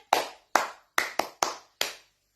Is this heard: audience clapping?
yes